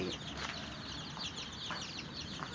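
Hens on a farm clucking and chirping in a busy chorus, with scattered calls over a steady farmyard background noise.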